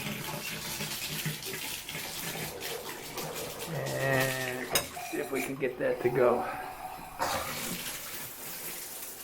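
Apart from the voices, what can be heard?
hot water running from shower into bathtub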